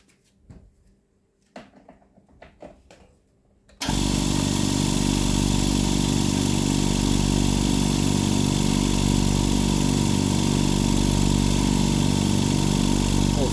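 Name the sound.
air compressor starting up and running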